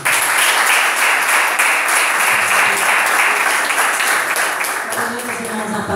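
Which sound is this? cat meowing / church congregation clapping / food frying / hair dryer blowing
church congregation clapping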